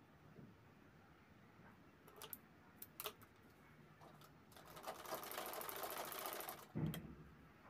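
Sewing machine stitching a strap onto a zipper handbag: scattered soft ticks and short taps, then a sustained rapid stitching run building toward the end, quiet and close.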